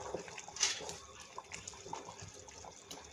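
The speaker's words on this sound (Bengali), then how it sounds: "এখন আমি নেড়ে চেড়ে দিচ্ছি।" A pot of boiling beef curry made with Eid sacrificial beef is stirred, giving soft wet bubbling and sloshing with a few sharper splashes, fairly faint and without talk.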